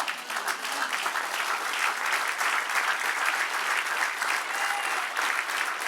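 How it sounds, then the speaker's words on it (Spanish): Steady applause from a church congregation, dense and continuous clapping at an even level throughout, with no voices standing out. "Denle un aplauso al Señor."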